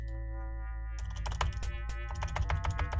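Computer keyboard keystrokes while playing Ultima Underworld, a quiet start followed by a rapid, uneven burst of close clicking keys over a steady low hum.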